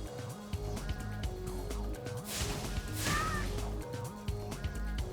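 Goggle-wearing seagull characters in the video game Spyro: Year of the Dragon give squawking calls over looping, bouncy game music, with a burst of whooshing noise partway through.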